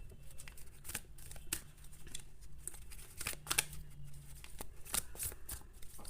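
Tarot cards shuffled softly and continuously by hand, a quiet riffling patter with occasional sharper card flicks as an advice card is drawn.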